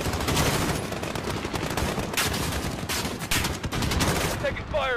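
Dense bursts of automatic gunfire and scattered single shots in Call of Duty: Modern Warfare (2019), loud and continuous over five seconds, with voices calling out over the firefight.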